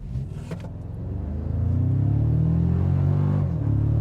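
A 2025 Toyota Tacoma Trailhunter pickup in 2 high pulling away on an uphill test run, engine rumble climbing into a steady loud drone as it accelerates, heard from inside the cab without talk.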